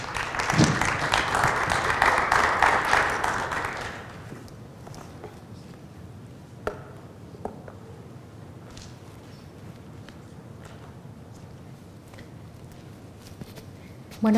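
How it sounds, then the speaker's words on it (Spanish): An audience at a church service applauds to welcome a woman preacher, with a few seconds of dense clapping that then fades into a quiet room with scattered footsteps and small knocks. "Reciban con un fuerte aplauso a mi esposa Pati Torres."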